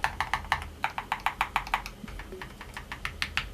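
Steady typing on a Keychron K10 Max mechanical keyboard with lubed switches, a brisk run of crisp, evenly spaced clacks close to the mic, slightly quieter toward the end, with no talk.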